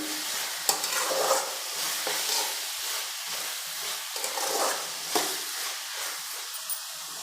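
Tomatoes fry in an oil tempering for masala upma with a soft, steady sizzle, punctuated by intermittent spoon scrapes and clinks as they are stirred in the pan.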